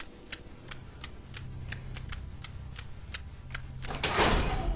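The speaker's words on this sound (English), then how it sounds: "So now use the key to unlock the door and head down the stairs." In the Saw video game, a door is unlocked with a key. About a dozen evenly spaced mechanical ticks and clicks lead up to a louder clunk and rattle as the bolt gives way, with no talking.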